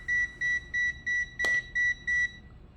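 A Mestek DM100C multimeter sounding its alarm with the probe in the current terminal: seven short, even electronic beeps in a steady rhythm, close and clear, with one sharp click partway through.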